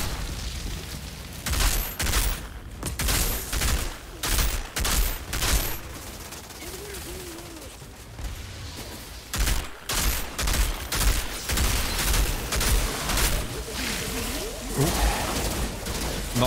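Mortar shells bursting in the shooter game Outriders, a steady run of booming blasts and gunfire thuds spaced every second or so, loud and close, with scattered game noise and a voice talking between some hits.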